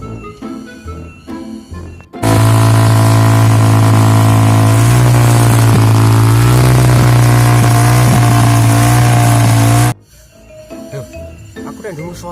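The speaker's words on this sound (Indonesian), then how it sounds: "Duh suara motor ki montore sapa?" A motorcycle engine roars suddenly at close range and holds loud, revving with a strong low drone for several seconds before cutting off abruptly, with quieter background sounds before and after.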